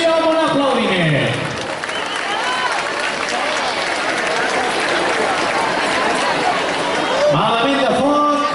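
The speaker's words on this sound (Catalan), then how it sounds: "Clar que sí, home, un aplaudiment." A festival crowd applauds the children's devils group from Granollers during a street procession, a loud, sustained wash of clapping and cheering with a voice talking over it at the start and end.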